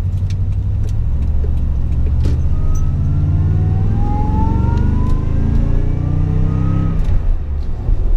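A supercharged Toyota Tundra Platinum pickup with a 5.7 engine accelerates hard out of a turn on a back road, its engine note rising steadily in a long, loud pull heard from inside the cab, with no talking.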